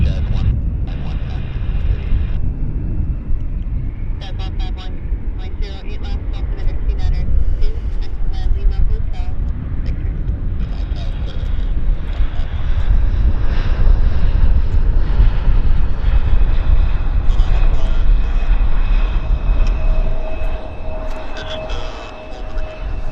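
A small airplane lands at Vancouver Airport, its engine drone steady and fairly loud, blended with broadband wind and runway rumble across the whole stretch while people talk in the background.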